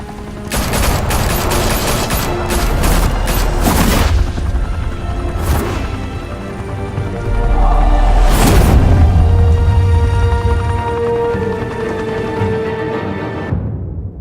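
A loud shootout in a Batman video game, with dense rapid gunfire volleys, booming impacts and a continuous roar of shots that stays heavy for most of the stretch before cutting off.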